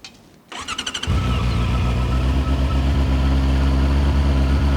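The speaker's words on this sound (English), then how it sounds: "Let's hear the engine first, because I want you guys to hear it and tell me if it's as loud as the previous model." A Honda CBR650R motorcycle engine cranks in a quick burst of starter pulses, then catches and settles into a steady, loud idle nearby.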